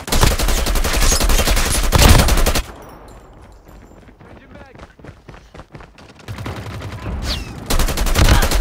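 Rapid automatic gunfire in the COD Mobile video game while shooting from the hip, loud bursts at the start and end with quieter game sounds between, and a person talking over it.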